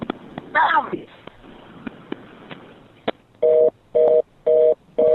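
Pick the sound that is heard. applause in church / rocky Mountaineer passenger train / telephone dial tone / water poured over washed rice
telephone dial tone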